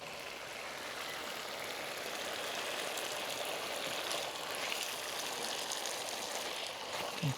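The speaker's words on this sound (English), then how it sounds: "I'll put a little bit water." Water splashes and sizzles steadily into a hot pan of stir-fried broccoli and tofu, a continuous hissing, bubbling wash of sound close by with no talk.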